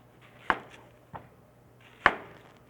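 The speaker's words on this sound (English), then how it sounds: "we'll cut our onion up." Knife chopping an onion on a board in a home kitchen, with two sharp, loud cuts about a second and a half apart and a fainter tap between them.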